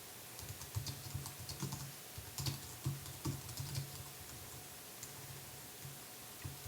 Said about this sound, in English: I have to type back to Night Stalker here